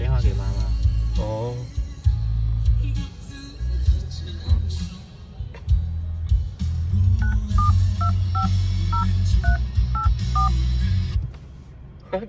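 Phone dialing tones sound inside a new Mercedes-Benz during a night drive in Hong Kong: a series of short, evenly paced beeps over a low cabin rumble, with people talking around them.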